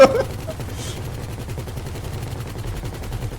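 Rapid aircraft gunfire in GTA V, a fast, unbroken mechanical rattle of rounds that stays loud and even from start to finish after a sharp opening burst.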